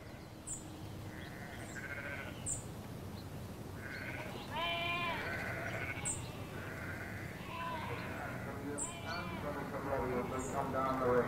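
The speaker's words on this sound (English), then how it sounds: "Sheep, the traditional creators of heath and downland, are uncommon in the forest and may be found only in this area." Sheep bleat repeatedly in an area of heath and downland at a country livestock show, their wavering cries rising over steady crowd murmur and distant background noise, with several calls close and loud.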